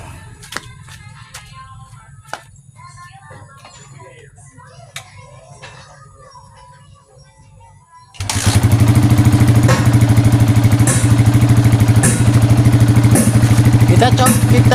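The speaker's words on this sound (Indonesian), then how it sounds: "kini kita akan coba nyalakan mesinnya" A Yamaha Vixion motorcycle with its radiator coolant run dry sits quiet with small clicks and handling noises, then its engine fires up abruptly and keeps running loud and steady, close by, for the rest of the clip.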